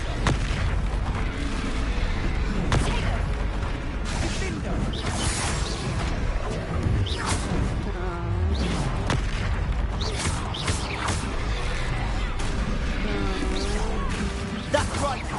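Confringo fire spell blasts in Hogwarts Legacy, a string of loud explosive booms and popping bursts amid constant combat noise, with voices talking through the fight.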